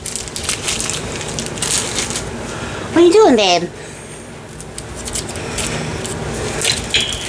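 Dry dead leaves crinkle and crunch in quick bursts as a cat plays with them in a window, while a person briefly speaks in a soft voice.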